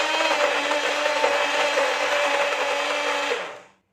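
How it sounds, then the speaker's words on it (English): Egg white and sugar mixture for a chocolate cake whipped with an electric whisk, a loud steady motor whir running close up for over three seconds before switching off abruptly. "Now we will again take the egg white and sugar mixture and give it a quick whisk."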